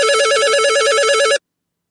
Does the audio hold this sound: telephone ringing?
yes